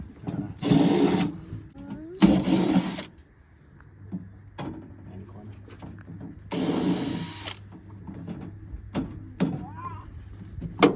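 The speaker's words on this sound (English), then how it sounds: "Got the rattle gun ready to take off the thing" A rattle gun undoes the tailgate bolts on a Daihatsu Mira hatch in three loud, close whirring bursts of about a second each. People talk in the quieter gaps between the bursts.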